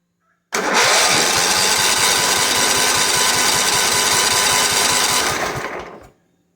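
A John Deere STX38 lawn tractor engine cranks over without starting, giving a rapid, even chugging from the starter for about five seconds before it stops.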